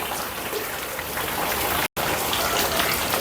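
Heavy rain pouring down in a sudden downpour, a dense, steady roar of drops drumming on surfaces, loud and continuous throughout with only a momentary break.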